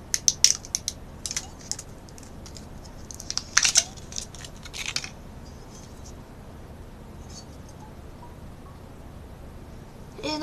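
A glass liquor bottle is tapped, giving a few bright, ringing clinks in two quick clusters early on, then quiet room tone with only faint scattered clicks.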